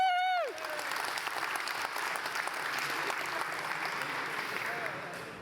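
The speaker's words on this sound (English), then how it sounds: "I think we need to applaud ourselves for fixing the Y2K bug" Audience applause and cheering fill a conference hall, a dense sustained clatter of clapping that starts abruptly after a brief rising tone and continues steadily throughout.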